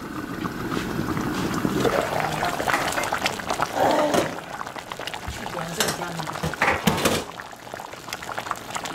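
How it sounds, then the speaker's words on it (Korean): A lid comes off a pot of boiling ginseng chicken soup with chestnuts, giving a loud, steady bubbling and rolling boil with a few clanks, partly under people talking nearby. "뚜껑을 열어볼까?"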